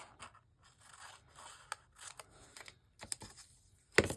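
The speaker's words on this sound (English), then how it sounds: "I am going to trim these gussets back." Scissors trimming fabric gussets on a sewing project, a series of crisp, quiet snips at irregular intervals with a sharper cut near the end, close up in a quiet room.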